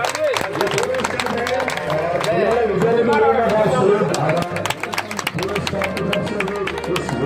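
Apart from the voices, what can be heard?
audience applause at a retirement ceremony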